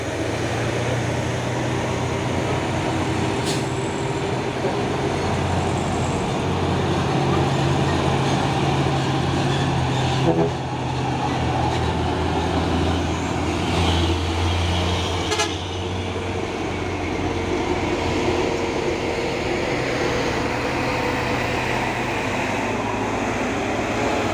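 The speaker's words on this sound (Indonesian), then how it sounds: "Ada lagi truk trailer." A trailer truck rolls past on a road, a steady loud rumble of engine and tyres holding throughout, with other traffic around it and a brief horn toot near the start.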